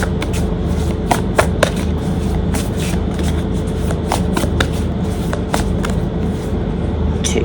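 Tarot cards being shuffled by hand, a continuous dense riffling and flicking with frequent sharp snaps, close and fairly loud, without talk.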